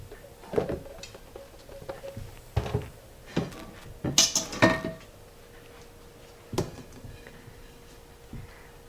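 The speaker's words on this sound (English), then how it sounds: "I'll get my casserole dish" Kitchen clatter as a casserole dish is pulled from a cupboard and set down, with several separate wooden knocks and ceramic clunks spaced over a few seconds, fairly close and moderately quiet, with no talk.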